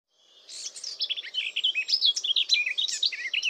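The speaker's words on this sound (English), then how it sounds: "Garden warbler." A garden warbler delivers a fast, warbling song of rich, varied chirps in a continuous flowing stream, near and clear with silence behind.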